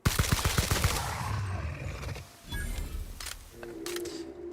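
Rapid automatic gunfire from a gun in the video game The Outer Worlds, a loud close burst of shots at the start followed by fainter scattered shots and game effects.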